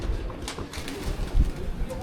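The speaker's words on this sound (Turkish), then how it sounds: "Güvercinler." Pigeons coo around a historic mosque courtyard in Şanlıurfa, soft low calls repeating beneath steady outdoor chatter and crowd noise.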